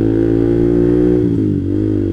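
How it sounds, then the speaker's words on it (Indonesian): Motorcycle engine with a manual clutch holding a steady rev around 3000 RPM during a hill start, loud and close with a continuous harmonic drone that dips briefly near the end. "lepas perlahan sampai RPM 3000, mesin motor udah mulai kedenger kayak gitu"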